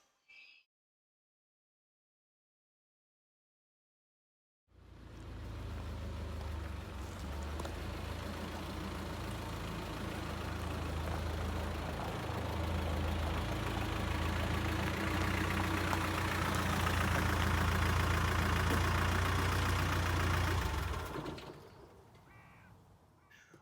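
A Land Rover Discovery 300 TDI diesel engine runs steadily for around sixteen seconds with a low rumble, starting abruptly after silence and fading out, with bird coos audible faintly.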